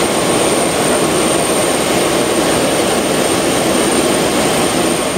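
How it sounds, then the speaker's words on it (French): Jet airliner engine roaring steadily on a flight to Kananga, a loud continuous broadband cabin drone with a deep low rumble that holds unchanged and close throughout, with no voices. "nakati avion à destination Kananga."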